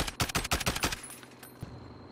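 A minigun fires in Call of Duty: Warzone at a scrap yard, a rapid burst of loud, close, evenly spaced shots that stops abruptly after about a second, followed by a faint lone impact.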